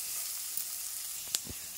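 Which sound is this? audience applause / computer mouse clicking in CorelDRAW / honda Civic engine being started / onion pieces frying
onion pieces frying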